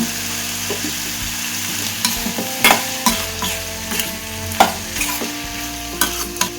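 Ingredients for a mushroom gravy sauté in a pan with a steady sizzle. A spoon stirs and clinks against the metal in repeated sharp knocks, close by and without talk.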